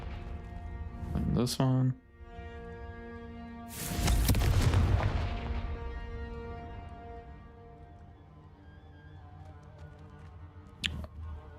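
A Confringo fire spell in the video game Hogwarts Legacy erupts in a heavy, booming blast that swells and slowly dies away beneath sustained musical tones, with a sharp hit earlier and a brief spoken remark.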